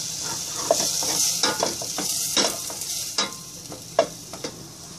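Sofrito going into a hot pot of red beans in a home kitchen, heard as a steady close sizzle with repeated stirring scrapes and light knocks of a utensil against the pot.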